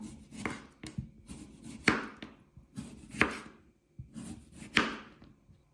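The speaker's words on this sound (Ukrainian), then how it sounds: "Свіжий огірочок нарізаємо скибочками" A knife slices a fresh cucumber on a cutting board: sharp chopping taps in a loose rhythm, about eight to ten cuts over a few seconds, close and fairly quiet, with no talking.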